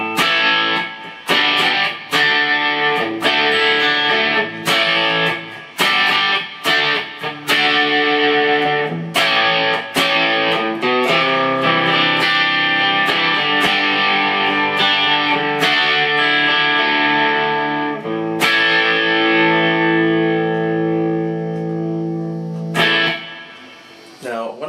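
Distorted electric guitar plays a crunchy rhythm part, chords struck in bursts and let ring, loud and close with effects from a Digitech RP360 XP processor coloring the tone.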